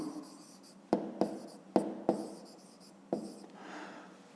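Pen or pencil writing on paper during a fifth-grade math lesson: several sharp, close taps and strokes against a quiet room, followed by a softer scratching stroke.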